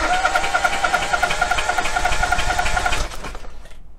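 A car engine cranks on the starter with one spark plug removed during a relative compression test, giving a steady, fast rhythmic churning whir for about three seconds before it stops abruptly.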